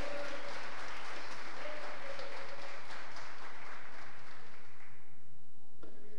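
Church congregation applauding, a sustained roomy wash of clapping from many hands that swells and then dies away toward the end.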